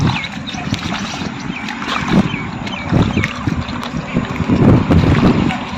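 Rain falls over an open groundnut field at harvest, a steady broad rush with gusty swells that sound partly like wind on the microphone. Faint voices come and go beneath it.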